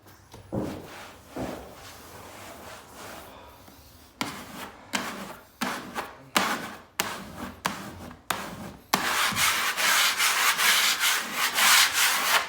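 Metal spatula scraping across a wall under installed wallpaper, in a series of short rasping strokes, then a longer, louder stretch of continuous scraping, close by and with no talk.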